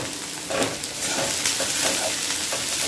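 Spring onion, carrot and coriander stir-fried on a high flame for veg Hakka noodles, with a loud, steady sizzle broken by repeated scrapes and tosses of the spatula, heard up close.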